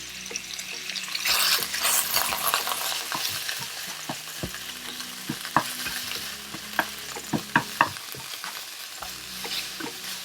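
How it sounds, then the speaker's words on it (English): Ground beef fries in a little vegetable oil with a steady sizzle while a utensil scrapes and taps the pan, breaking up lumps in irregular clatters, close up with no talking. "what you want to do is break the lumps while cooking the beef"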